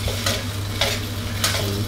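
Thai Isan sausages sizzling steadily in their own fat in a hot pan, with periodic scraping bursts as they're stirred or turned, close and fairly loud.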